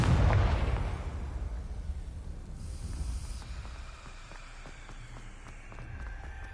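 A Confringo fire spell blasting in Hogwarts Legacy: a loud, close explosive burst opens, then decays into a long low rumble with a faint tonal shimmer partway through and scattered crackles trailing off.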